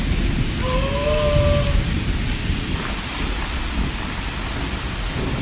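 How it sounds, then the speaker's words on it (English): Rain falls steadily outdoors as a loud, constant wash, with a low rumble of thunder rolling underneath in the first half. "It's not storming, but it's thundering. It's starting to rain."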